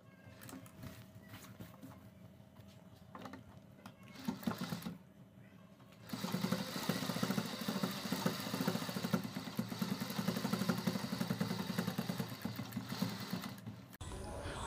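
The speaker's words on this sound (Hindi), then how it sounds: "ये हम यहाँ पर रखेंगे और नीचे की साइड से सिलाई लगाएंगे" Sewing machine stitching a kurti neckline, a close, steady mechanical whirring that starts softer, pauses, then runs louder and continuous for several seconds.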